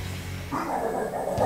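A dog barks once or twice nearby, a short yelping sound over a low background hum.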